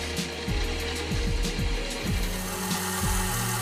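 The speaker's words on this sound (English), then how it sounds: "Back to the mill and I formed the shallow notches" A milling machine cuts shallow notches into a brass-style gear wheel for an Antikythera mechanism model. A steady machine drone runs under repeated short cutting strokes at an uneven rhythm, close and fairly loud, with no voices.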